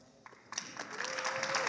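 A conference audience bursts into applause for a speaker, claps swelling from a few scattered hits into dense, continuous clapping close by.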